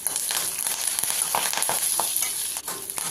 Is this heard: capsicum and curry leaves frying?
yes